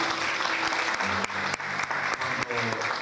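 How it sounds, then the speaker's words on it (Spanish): Guests at a quinceañera in Miami applaud in a steady burst of many hands, with a voice and some background tones running underneath the clapping. "Y eso es algo que yo también creo que merece un aplauso."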